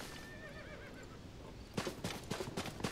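A horse whinnies in The Legend of Zelda: Tears of the Kingdom, a wavering neigh over a steady outdoor wind hiss, then a run of clip-clopping hoofbeats that picks up near the end.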